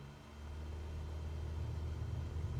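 A light aircraft's engine in Microsoft Flight Simulator 2024 runs at full takeoff throttle as a steady, low droning rumble. It builds slightly over the first moments and then holds even, with no talk over it.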